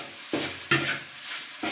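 Egg frying with chopped okra in a pan gives a close sizzle, broken by a few sharp scrapes and stirs of a spatula.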